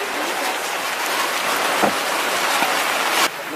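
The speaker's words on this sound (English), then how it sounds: "Raining." Steady hiss of rain falling on surfaces on an island in El Nido, Palawan, Philippines, dense and continuous, with a couple of louder splashes and no voices.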